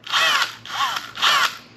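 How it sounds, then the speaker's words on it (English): A power drill bores holes through an Enduro plate mount on a 2024 KTM 500 EXC-F, with three close, loud whining bursts whose pitch dips as the bit bites. "Then I drilled these holes out complete."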